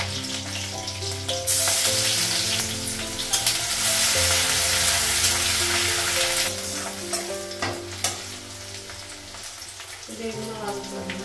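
Green chillies and black cumin seeds hit hot oil in a wok with a loud, bright sizzle that settles into steady crackling frying, with occasional stirring clinks.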